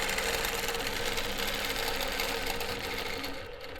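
Longarm quilting machine stitching, a fast, even mechanical whir of needle strokes, loud and close, easing slightly toward the end.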